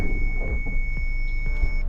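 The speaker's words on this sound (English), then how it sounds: "we'll start to hear the beeps, and then we should hear the anti-lock brakes grinding the car to the stop" A Subaru backing up with reverse automatic braking gives a steady high electronic warning tone alongside rumbling low engine and brake noise, with short clunks as the car is brought to a halt.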